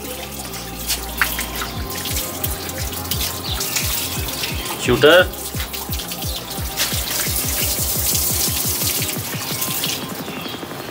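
Water from a shower sprays and splashes steadily onto a white tiger in a pool, a continuous dripping, trickling wash with rapid drops and a brief louder splash midway, while a voice briefly speaks over it.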